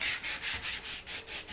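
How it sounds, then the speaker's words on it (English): A palm frond bow is sanded by hand, giving a rhythmic rasping hiss of about eight even back-and-forth strokes, close and steady, with no voices. "finishing up sanding here"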